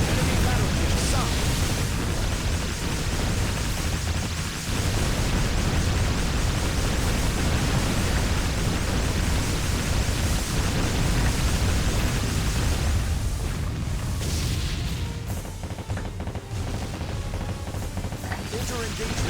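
Warship Gunner 2 naval battle with enemy battleships being sunk: a continuous, loud wall of roaring explosions and noisy rumble filling the whole span, with voice announcements faintly under the din.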